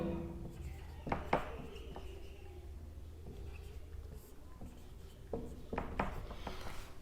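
Someone writes on a board during a maths lesson on polynomials, making intermittent scratchy strokes and taps over a quiet room.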